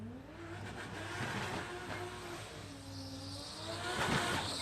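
A turbocharged Barra-engined drag car at a drag strip test day accelerates hard, its engine note rising in pitch through the run and swelling louder near the end. No one speaks.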